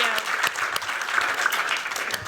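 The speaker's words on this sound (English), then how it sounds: "Join me in giving them a big round of applause" An audience claps at an event on just cities featuring mayors, giving dense, sustained applause throughout with a crowd's steady clapping in a hall.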